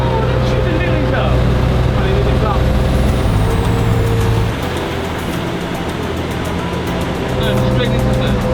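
Amphibious vehicle driving, a loud, steady engine drone with a shifting low rumble and a change in pitch midway, heard close with no clear speech.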